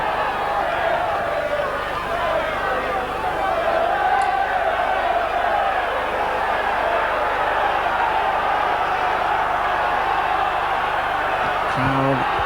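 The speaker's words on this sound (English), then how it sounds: "The Trinity crowd urging the side on here." Rugby league crowd at a Wakefield Trinity versus Leeds match roaring steadily to urge the home side on, a dense continuous wall of cheering and shouting that holds at full level throughout.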